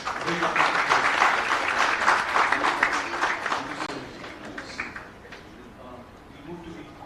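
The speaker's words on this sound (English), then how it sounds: "Big round of applause." A crowd claps steadily at a medical conference, loud at first and then thinning out, with scattered voices underneath.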